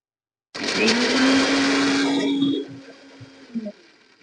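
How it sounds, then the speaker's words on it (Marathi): A mixer grinder blending mint sherbet with lemon juice and water starts abruptly and roars loudly for about two seconds, then winds down, followed by a few faint clinks. "मिक्सरच्या भांड्यामध्ये वाटून घेणार आहे"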